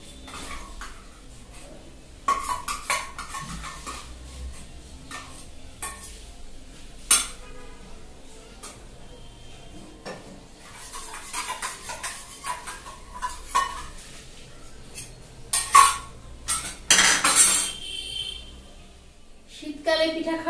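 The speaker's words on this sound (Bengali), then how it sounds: "চালের গুঁড়ির সাথে মিশিয়ে দিচ্ছি" Liquid jaggery being stirred into rice flour batter in a bowl makes close scraping and clinking from the utensil in uneven bursts, louder near the end, with a voice occasionally heard.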